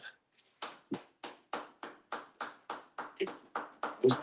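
Steady rhythmic hand clapping at a Sabbath service, about a dozen sharp claps at an even pace, close by, with a brief murmur near the start.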